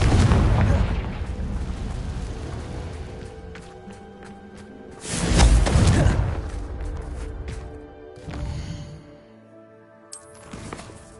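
A Confringo fire spell bursts in the Hogwarts Legacy video game, a loud booming explosion that swells and fades, then a smaller blast follows, with game music and effects layered underneath.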